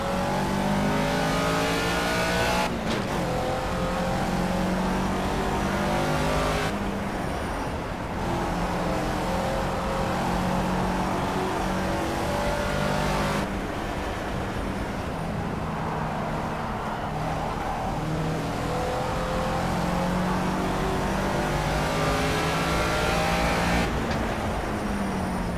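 A racing car engine in the video game Project CARS revs hard and climbs through gear shifts over and over, loud and continuous.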